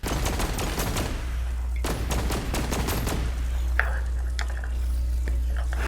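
Rapid bursts of gunfire from the VR shooter Spatial Ops on Vision Pro, with an infinite-ammo power-up active: dense, loud automatic shots in clusters, then sharper, sparser single shots toward the end.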